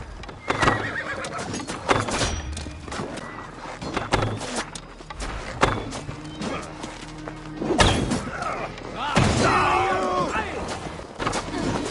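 Horses whinny and thunder along in a Viking-era combat scene in Assassin's Creed Valhalla, loud neighs over galloping hooves, thuds and crashes, with shouted voices mixed in.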